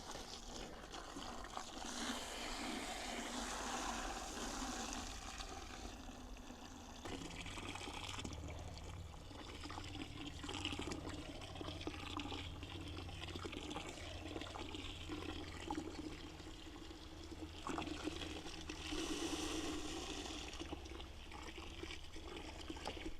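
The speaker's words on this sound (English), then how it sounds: "We just want to start filling the bucket up with some water here." Water pours steadily into a bucket for compost tea, a continuous rushing, splashing flow that holds at an even level throughout, close to the listener, with no one talking.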